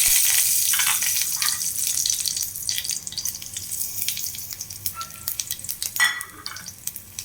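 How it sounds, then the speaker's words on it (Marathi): Curry leaves and cumin dropped into hot oil for a Goan fenugreek and potato bhaji, giving a loud, steady hissing sizzle up close that gradually settles, with occasional crackles and stirring scrapes. "आतां आनी करबेव आनी जिरे घालता."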